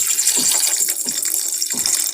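Water splashes and pours steadily into a pot of beef daal gosht, a continuous rushing stream with a few louder gushes, close by and with no talking.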